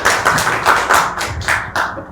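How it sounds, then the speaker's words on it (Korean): A small audience at an ESG forum in Korea claps for an introduced guest, a series of distinct sharp hand claps in a quick, fairly even rhythm, close and clear. "큰 박수 부탁드립니다"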